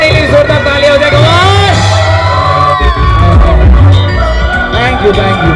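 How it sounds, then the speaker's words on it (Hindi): Loud cheering and whooping from a crowd at a sangeet celebration, with yells and excited voices over background music. "एक बार अपने लिए जोरदार तालियां हो जाएगा।"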